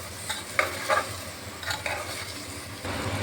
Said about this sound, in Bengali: দিয়ে একটু ভালোভাবে একটু ভাজা ভাজা করে নিচ্ছি